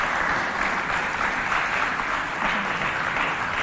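Steady applause from an audience at a children's holiday event, dense continuous clapping sustained throughout with no breaks and no voices standing out.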